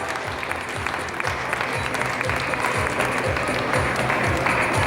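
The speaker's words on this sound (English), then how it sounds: "Please a big round of applause." An audience at a grade 5 school graduation ceremony gives a loud, sustained round of applause, dense clapping continuing steadily with a faint murmur of crowd beneath.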